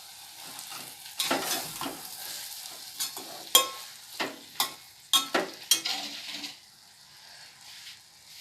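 Soya masala simmers in a pan on low heat as a spoon stirs and scrapes through it, with a soft bubbling sizzle under a run of sharp clinks and scrapes that stop toward the end.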